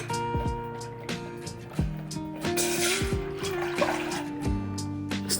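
A cup of water poured into a pot for homemade strawberry marmalade gives a brief splash and trickle, partly buried under background music.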